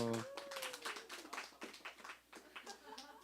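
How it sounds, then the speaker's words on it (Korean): A church congregation claps together during a live online Sunday worship service, a short burst of scattered, overlapping hand claps that fades out as a voice picks up again. "동의하시면 박수"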